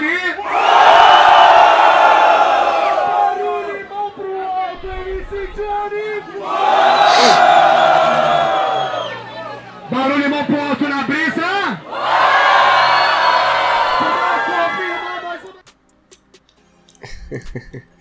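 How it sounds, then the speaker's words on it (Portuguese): A rap battle audience roars and shouts in three big waves of loud cheering, each lasting a few seconds and separated by quieter gaps, before fading to near silence. "Barulho para quem acha melhor a rima de Johnny"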